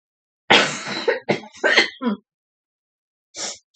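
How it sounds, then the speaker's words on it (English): A burst of harsh coughs, three or four in quick succession, followed by a pause and one more short cough, close and clear. "I'm going to cough."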